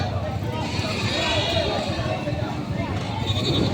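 At a goat market in rainy, stormy weather, a nanny goat and her kid are on sale, and faint bleats sound amid crowd noise and a steady patter of rain.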